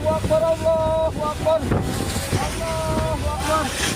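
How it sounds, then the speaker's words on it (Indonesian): A strong whirlwind roars through a toll road underpass construction site in Sumedang, West Java, with heavy gusts buffeting the microphone while people shout and call out in panic. "Kencangnya angin membuat warga panik."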